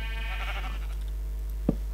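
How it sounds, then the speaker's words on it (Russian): Minecraft sheep bleat in a short wavering call near the start, a game sound under steady background hum, followed by a brief thump. "Ух ты, овцы."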